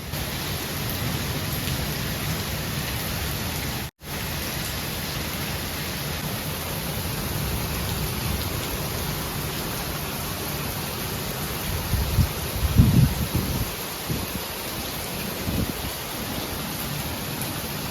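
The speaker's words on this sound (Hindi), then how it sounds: "ये जो भी 3-4 दिन पहले बारिश हुई है ना बहुत ज़्यादा वाली" Heavy rain falls in Lahore as a steady, hissing wash that stays constant throughout, with a few faint low knocks near the end and no one talking.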